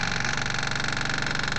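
Fuel pump on a Suzuki Vitara running with the ignition off, a steady close mechanical buzz with a fast even pulsing, constant throughout and heard alone.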